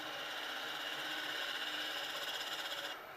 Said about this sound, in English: Turn on our lathe,